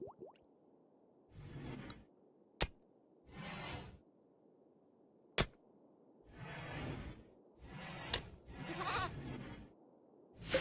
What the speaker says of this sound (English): Now Velma is milking Goat Dough 1